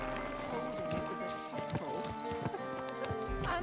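A horse's hooves clip-clop at a walking pace in Kingdom Come: Deliverance II, steady moderately close footfalls over a low background of music and ambience, with no voice.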